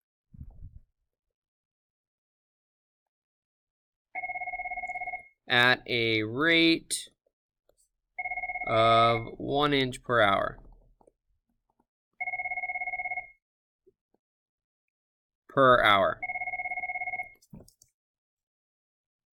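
A telephone rings in repeated electronic double bursts, each lasting about a second with silent gaps, loud and close, alternating with someone speaking between the rings.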